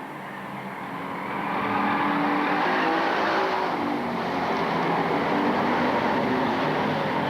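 Bomber-class stock cars race around Lakeport Speedway in a main event, a dense, steady roar of several engines that swells after the first second and then holds loud and continuous, with no talk.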